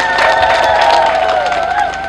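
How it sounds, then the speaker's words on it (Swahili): A crowd at an Uhuru Torch community event in Tanzania bursts into loud, sustained clapping and cheering, dense and close, with shouts mixed in for the whole stretch. "Naomba tujipigie makofi mengi sana"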